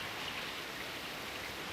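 Steady rain falls as an even, soft hiss of drops, faint and continuous throughout with no voices.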